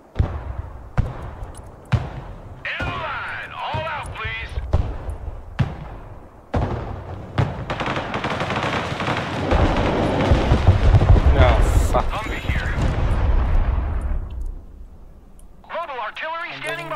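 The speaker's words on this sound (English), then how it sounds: "Artillery ready to fire, sir." Broken Arrow video game artillery firing: a run of sharp, heavy booms, several spaced blasts early on, then a long rumbling roar, with game voices in the mix.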